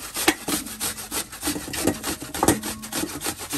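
An apple being grated by hand for apple halwa, with a steady run of short scraping strokes rasping against the grater, close and fairly loud, with no talk.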